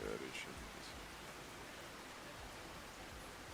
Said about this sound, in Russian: Дождь еще этот.